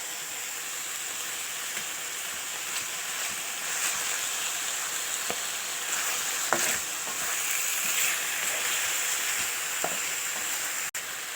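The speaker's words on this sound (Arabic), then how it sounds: "هننزل بمكعب الثوم، ونبدا نقلبه بقى في كل الفراخ بتاعتنا كده" Chicken pieces and a garlic stock cube are stirred in a frying pan, producing a continuous soft sizzle with occasional scraping clicks of a utensil, steady and close, no talking.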